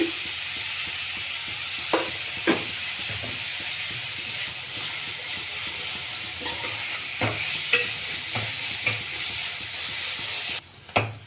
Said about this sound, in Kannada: ಇಲ್ಲಿ ಈರುಳ್ಳಿ, ಮುಲ್ಲಂಗಿ, ಬೆಳ್ಳುಳ್ಳಿ ಎಲ್ಲ ಚೆಂದಾಗಿ ಫ್ರೈ ಆಗಿದೆ